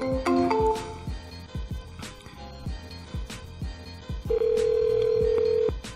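Telephone call dialed from a computer: a brief burst of dial tones, then repeated ringback tones at a steady rhythm with a long held tone near the end, fairly clear and alone.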